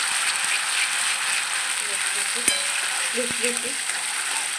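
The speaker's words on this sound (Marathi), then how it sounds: "त्यात घालायची आपल्याला आलं लसूण पेस्ट, तिला थोडं हलवायचं कांद्यामध्ये." Ginger garlic paste is stirred into onions frying in oil, giving a dense, steady sizzle with a few sharp utensil clicks and taps, and a faint voice in the background.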